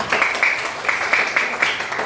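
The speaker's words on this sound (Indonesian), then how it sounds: "tepuk tangan untuk si Devita" A class of pupils applauds a classmate during a Christian religion lesson for fifth graders, giving a steady two-second patter of many hands with a few thin voices mixed in.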